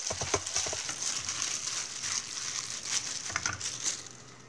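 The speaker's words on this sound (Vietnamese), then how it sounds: "Mình hạt điều mình phi với dầu ra, dầu màu điều." Annatto seeds fry in oil in a pan, making a soft, close crackle with scattered light pops and gentle stirring scrapes, fairly quiet and continuous.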